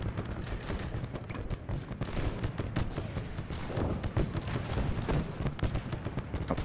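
A phosphorus artillery barrage on a WWI battlefield in Over The Top WWI, a continuous rumbling fusillade of shell bursts and gunfire, dense and loud throughout with no pause.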